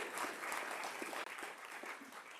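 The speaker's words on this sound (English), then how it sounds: "a good round of applause for Kyle and Brandon helping, and everybody" An audience at a real estate investor meetup gives a steady round of applause, dense clapping from a crowd heard at moderate distance for a couple of seconds.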